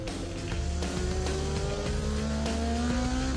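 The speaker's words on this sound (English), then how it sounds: "One of the patrol cars is going to try to cause the Lincoln to spin out of control" A police patrol car chases a Lincoln on a highway, engine revving hard with a rising whine and tires squealing, loud and close throughout, with no talking.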